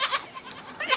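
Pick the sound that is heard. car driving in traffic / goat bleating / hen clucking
goat bleating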